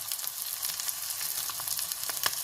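A steak fries in melting butter in a pan over medium heat, giving a steady close sizzle with scattered pops and crackles throughout, no voices.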